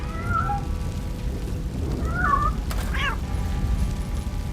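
A cat in the video game Robocop: Rogue City meows several times, short plaintive calls spaced apart over a steady low background rumble, moderately close.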